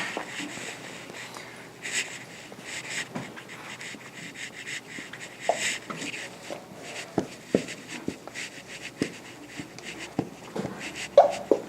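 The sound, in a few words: writing by hand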